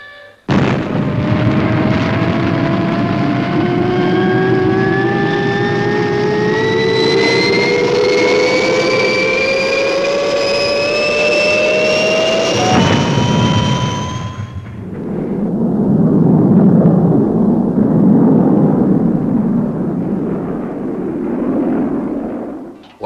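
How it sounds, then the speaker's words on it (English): The Fireball XL5 spacecraft lifts off with a loud jet-like roar and rising whine that climbs steadily in pitch, then breaks into a deep rumbling blast that fades slowly. "all clear for liftoff"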